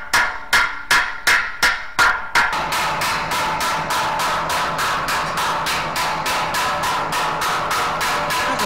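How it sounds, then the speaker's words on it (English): Steady metallic hammer blows reshaping a welded steel chrome bumper from an Aston Martin DB5, first a few spaced strikes, then a fast regular series of ringing hits, loud and close. "a last little bit of hammer work just to remove any distortion that the welder might have put in"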